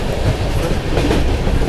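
The 12556 Gorakhdham SF Express runs through Karnalganj without stopping, heard from on board as a loud, continuous rumble of wheels with steady clickety-clack over the rails.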